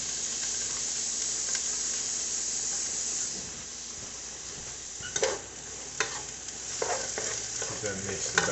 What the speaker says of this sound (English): I'm gonna add me some celery.